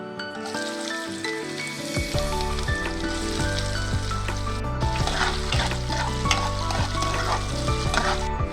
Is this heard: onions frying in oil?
yes